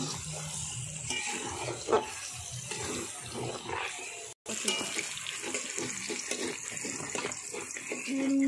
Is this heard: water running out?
yes